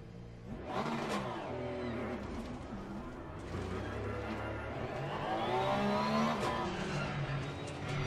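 Porsche race car with a rear engine in the racing game Assetto Corsa Competizione, the engine note continuous and loud, rising and falling through gear changes and revving up strongly near the end.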